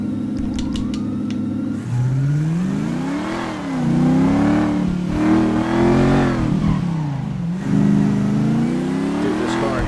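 A Mercedes W211 in the FiveM driving game revs its engine repeatedly, the pitch climbing and falling in several loud, close sweeps with no break.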